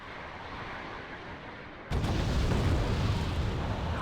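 Missile explosions in the Cold War strategy game Wargame: Red Dragon, set in a 1992 Korean campaign, swelling into a sudden loud, sustained rumbling blast that stays heavy to the end, with no talk.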